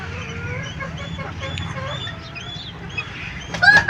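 Clucking from an Aseel rooster of good breed, soft and close, with repeated short clucks over a low background rumble and a louder burst at the very end.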